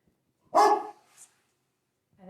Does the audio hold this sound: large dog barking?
yes